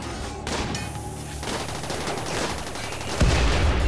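Rapid blaster gunfire aimed at a centipede in RimWorld, dense overlapping volleys of shots crackling continuously, with a heavier thump near the end.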